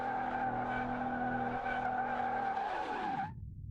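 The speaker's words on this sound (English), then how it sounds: "will it spin up its wheels though?" Wheels spinning on a modified tractor in Car Mechanic Simulator, a loud steady engine drone with squealing tire tones and a rising whine that drops away near the end.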